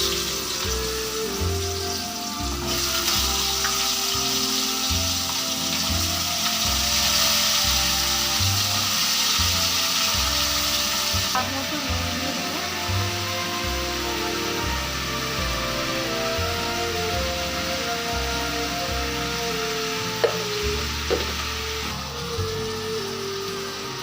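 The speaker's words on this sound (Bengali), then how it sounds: "আলুটা দিয়ে দেবো ভাজার জন্য" Cut potatoes that were soaked in water fry in a pan, producing a long, steady, rain-like sizzle that stays close and even throughout, with occasional faint clinks and small shifts in intensity.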